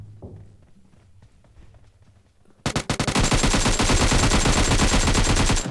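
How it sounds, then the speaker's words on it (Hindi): Gunfire in the video game PUBG Mobile: after quiet background, a sudden long burst of rapid automatic shots rings out loud and continuous for about three seconds. "मेरे को मैप में दिखता है यहाँ पे गोलियाँ चल रही हैं"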